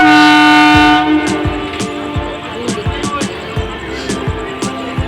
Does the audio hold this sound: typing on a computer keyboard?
no